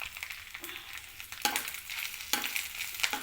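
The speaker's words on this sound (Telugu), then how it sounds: "ఈ కరివేపాకును ఇది కూడా బాగా వేగాలి వేగనివ్వాలి" Curry leaves fry in oil in a pan for a chutney, giving a steady close sizzle broken by louder crackling bursts as they are stirred.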